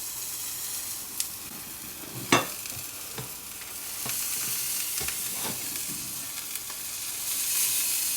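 Hot dog omelette frying in a pan, a steady close sizzle with a few sharp scraping clicks of a utensil as it is flipped.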